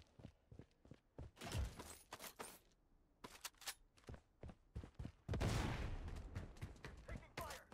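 Gunfire in the Blood Strike battle royale shooter: repeated sharp bursts and single shots, some rapid automatic strings, loud and close with brief gaps, a voice speaking between shots.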